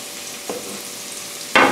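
Splash of water hitting hot tomato paste in a pan while cooking a mussel and feta tomato sauce, a soft sizzle building into a sudden loud, bright hiss near the end, no voices.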